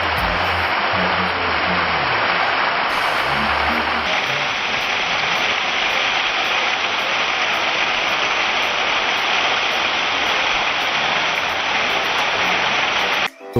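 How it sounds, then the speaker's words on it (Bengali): The second waterfall on the Napittachora trail in Sitakunda roars as a steady, loud, broadband rush of falling water close by, continuous throughout with no talk. "অবশেষে আমরা দ্বিতীয় ঝর্ণায় চলে আসলাম"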